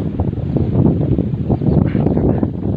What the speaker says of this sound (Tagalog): malakas talaga ang hangin dito